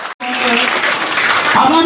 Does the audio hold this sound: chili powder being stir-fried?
no